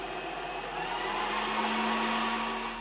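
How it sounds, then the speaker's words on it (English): Two stock 40mm cooling fans in a budget DIY router whirring continuously, a steady close broadband hiss with a faint tonal hum, no speech. "Originally, there are 2 40mm fans in the back, and well, you can definitely hear them."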